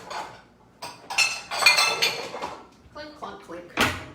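A bowl and dishes clink and clatter in a home kitchen in several sharp bright knocks spread across the moment, mixed with a person talking nearby.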